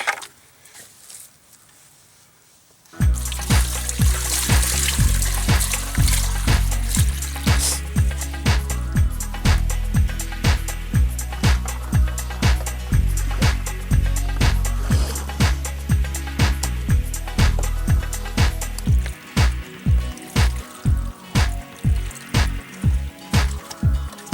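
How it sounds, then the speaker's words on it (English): Water pours into a riverside hot tub in a rhythmic series of gushing splashes, each burst stopping briefly before the next, loud and close, after a few seconds of near silence. "I'll keep doing this until I fill the tub up, just to be on the safe side."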